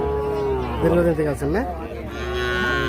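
Calf mooing at a cattle fair, one drawn-out, wavering low moo close by with voices and crowd murmur around it.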